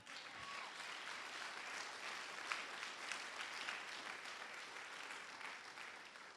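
A church congregation at a conference in Abidjan applauds steadily, a dense, sustained wash of clapping with scattered cheers from a large crowd, holding at an even level throughout.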